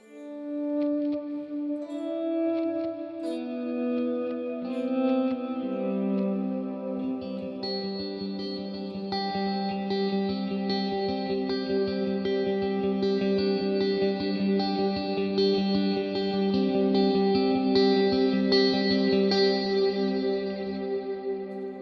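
Electric guitar played through a Fractal FM9 effects unit with reverb at full mix, sustained chords and notes blooming into a wide, washy tail, loud and alone.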